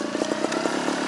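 A trials motorcycle engine sounds loud and close, with quick repeated throttle blips making a rapid, buzzing, pulsing rhythm.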